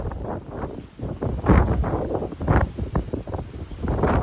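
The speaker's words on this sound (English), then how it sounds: "It's very windy." Strong wind buffets the microphone at a cruise ship channel where the Royal Caribbean Odyssey of the Seas is moving, with loud rumbling gusts surging and easing through the whole stretch and no voices.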